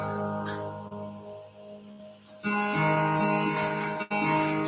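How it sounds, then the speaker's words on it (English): A baritone dulcimer, tuned several steps below a regular dulcimer, plays sustained strummed chords with rich ringing overtones. Partway through, a louder, fuller chord takes over, and the playing stays steady and close with no voice. "I'm going to switch to the baritone dulcimer."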